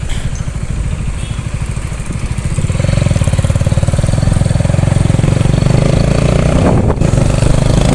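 A Bullet motorcycle with a loud silencer thumps along at a steady rhythm, growing louder and heavier partway through as it revs, close and dominant throughout.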